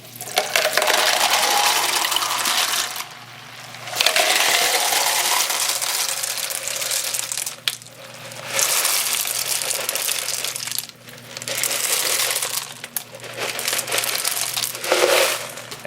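Water poured to fill plant containers set in a tray for semi-hydro hoyas, splashing and trickling in several bursts separated by brief pauses, close and fairly loud with no talk.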